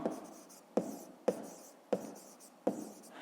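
Pen or chalk marks made during a fifth-grade math lesson, five distinct taps with short scratchy strokes, evenly spaced about half a second to a second apart, close and soft against a quiet background.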